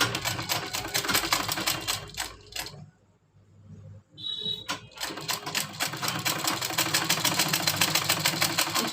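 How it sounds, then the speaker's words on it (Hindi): Sewing machine stitching lace onto a baby frock, rapid rattling stitch bursts running close and steady, with a short pause in the middle before stitching resumes. "इस तरह से पूरे में हम सिलाई चला लेते हैं।"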